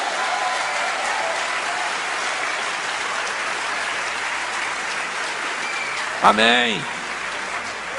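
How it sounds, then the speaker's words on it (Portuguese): A church congregation applauds steadily for several seconds, a dense even wash of clapping, before a single voice rises briefly near the end. "Você pode glorificar o Senhor e aplaudi-lo?"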